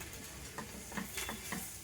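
Leafy greens and vegetables sauté in a hot tempering for tender bamboo shoot sambar, a dense close sizzle broken by repeated stirring scrapes.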